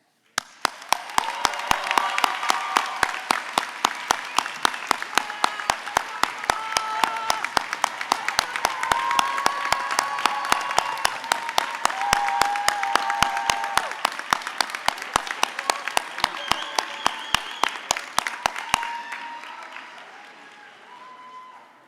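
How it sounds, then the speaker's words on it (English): A graduation crowd gives the mothers a standing ovation, steady dense clapping and applause filling a large hall for about twenty seconds before cutting off abruptly. "can we give a rousing, standing round of applause to all of the mothers who got us here today?"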